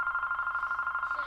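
A telephone rings for an incoming call during a live Bible-study broadcast, a steady electronic ring pulsing in a fast regular rhythm through the whole moment, fairly loud and alone, without talk over it.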